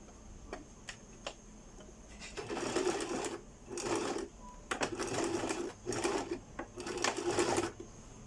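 A sewing machine stitches a pocket into a garment seam in several short rhythmic bursts, faint ticking clicks between runs, close-up with no talk.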